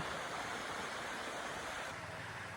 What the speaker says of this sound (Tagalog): naririnig nyo guys yung lagaslas ng tubig